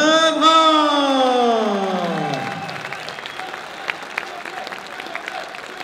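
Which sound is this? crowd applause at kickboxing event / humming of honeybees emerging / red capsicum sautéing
crowd applause at kickboxing event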